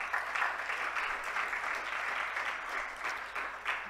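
Steady audience applause for presenters at an HIV and adolescence conference session, a continuous dense patter of many hands clapping, evenly loud throughout.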